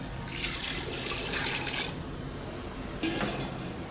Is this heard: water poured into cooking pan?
yes